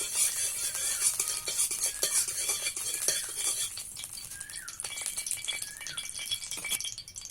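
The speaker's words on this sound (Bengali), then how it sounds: "সর্ষে ফোড়ন দিয়ে দিলাম এবার কারি পাতা দিয়ে দিলাম" Mustard seeds and curry leaves tempering in hot oil for a dhokla seasoning: a loud, steady sizzling crackle with fine popping that fades after a few seconds into quieter spits and small clinks, with no voices.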